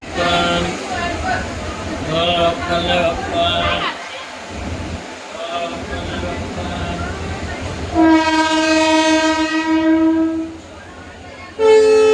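A train pulls into Karjat station, its horn sounding one long, loud, close blast followed by a brief second toot, over rumbling rail noise and people chatting nearby.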